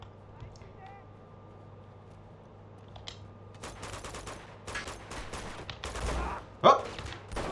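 Bursts of gunfire from a powerful weapon in the Uncharted 2 video game, several sharp shots crackling in quick succession over a quiet background, getting louder toward the end.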